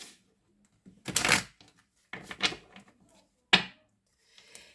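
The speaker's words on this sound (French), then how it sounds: "On va se superposer les cartes." Playing cards are stacked and shuffled together close up, heard as three short, quiet riffling bursts separated by silence.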